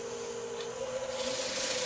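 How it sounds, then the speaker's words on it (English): Wax is buffed into spalted hackberry wood spinning on a lathe, making a steady, close friction rub and hiss over the lathe's even motor hum, with no voices. "you want friction and heat to build up with this to burnish that wax into the wood"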